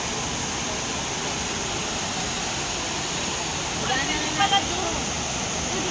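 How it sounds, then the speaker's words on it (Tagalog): A waterfall at Villa Escudero Plantations Resort gives off a constant, dense roar of falling water. A few faint voices come through near the end. "ang ganda ng falls"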